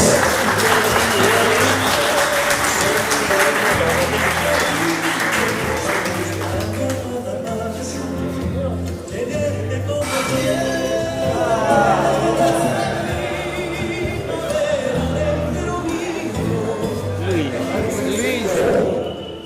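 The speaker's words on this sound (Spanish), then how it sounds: "Y el aplauso de ustedes, periodistas," Applause for journalists at an awards dinner for commerce employees, clapping mixed with crowd chatter and a voice over the room, continuing fairly loud with shifting background sounds.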